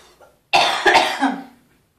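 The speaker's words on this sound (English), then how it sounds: "Pardon my coughing." A single harsh cough close by, a short burst followed by a brief rasping tail, with near silence around it.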